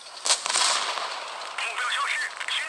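A tank cannon fires in World of Tanks Blitz, piloting an IS-2: one sharp, loud blast followed by a rolling, echoing tail and continued battle noise, with no voice.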